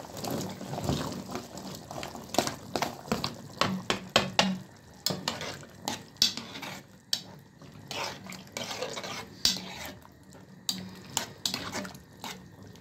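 Potatoes tumble into a simmering pot of stew with a quiet sizzle, and repeated knocks and scrapes of stirring and utensils against the pot follow in an irregular rhythm, close by.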